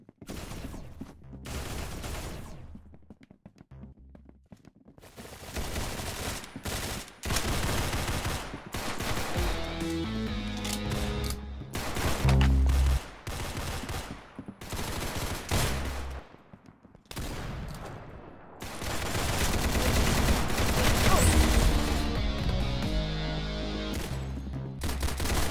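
Gunfire in a Roblox shooting game, with dense bursts of rapid automatic shots and heavy fusillades that come and go across the stretch, broken by brief quieter gaps.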